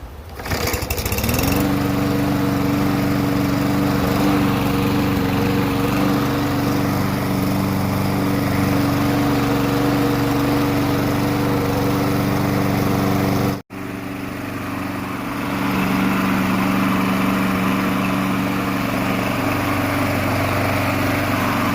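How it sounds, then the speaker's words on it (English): A purple push lawn mower engine starts after a single pull and runs loud and close, a steady droning buzz that briefly cuts out midway before catching again. "One pull, one start."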